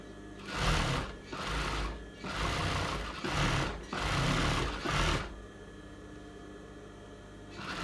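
A sewing machine stitching a pair of shorts (chaddi) at a half-inch seam margin, several loud whirring runs of stitching with brief pauses between them, then stopping to a quiet hum.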